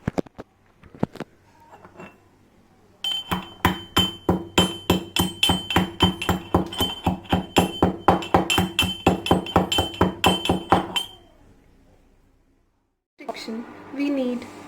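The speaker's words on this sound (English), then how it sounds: "For a cup of decoction, take 8 to 10 black pepper and coarsely grind them." Eight to ten black peppercorns being coarsely ground by hand for an ayurvedic immunity decoction, a run of about twenty steady, evenly spaced hard pounding knocks with a ringing metallic edge, then a pause and a short burst of scraping.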